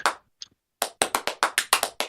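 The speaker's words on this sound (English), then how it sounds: "I can clap." A single pair of hands claps sharply during a live chiptune jam session, a couple of tentative claps first, then a steady run of about eight crisp, close, evenly spaced claps.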